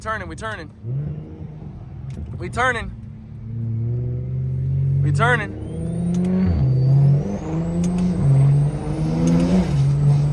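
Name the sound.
tuned car engine revving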